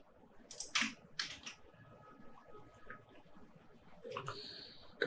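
Quiet computer keyboard typing while entering a value, in short bursts of clicking keys separated by pauses, close and faint against low room noise.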